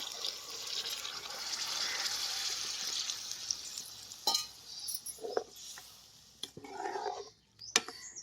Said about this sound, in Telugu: కూర అయితే ఉడకడానికి నేనైతే నీళ్ళు అయితే పోసుకుంటున్నానండి